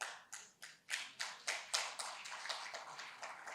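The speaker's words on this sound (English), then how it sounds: "the clap emanated from the Renaissance table" A small group seated at one conference table claps, a handful of close, distinct claps in an uneven rhythm, starting sparse and quickening into a brief patter before easing.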